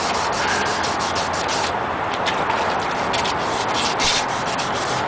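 Steady abrasive sanding on parts of old high school auditorium seats being restored, a continuous close, loud rasping rub with slight rhythmic strokes and no talking.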